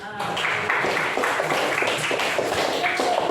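Classroom applause for a student: a steady wash of many hands clapping and tapping, dense and continuous, fairly close and loud throughout.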